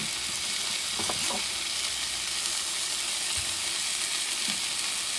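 Scallops sear in butter in a hot pan, a constant loud hiss and sizzle with a few soft low knocks, heard alone without talk.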